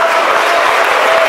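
An audience at a school prize ceremony for winning prototypes claps loudly and densely in a brief, continuous burst.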